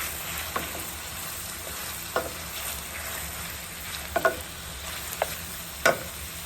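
Ingredients for Caribbean salt fish sauté in a pan with a steady, moderate sizzle, broken by several sharp spoon-against-pan clicks and scrapes spaced irregularly throughout.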